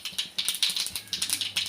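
Mustard seeds crackle in hot oil while cooking sambar, a quick uneven run of close, sharp little pops and ticks with no voice over them.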